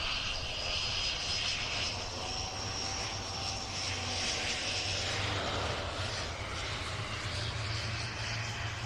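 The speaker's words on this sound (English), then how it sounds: "And the PC-17 heading out into the runway." A PC-17 aircraft taxis toward the runway during arrivals day at the Royal International Air Tattoo 2022, its engine a steady, fairly distant drone with a whining tone, continuous and unbroken without talk.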